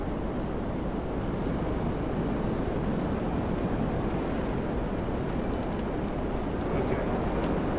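Propeller or jet engine of a plane in GTA 5 Online, a steady loud broadband drone held throughout with a faint high whine, continuous and close with no gaps.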